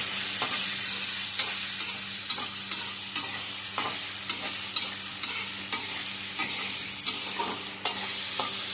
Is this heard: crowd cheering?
no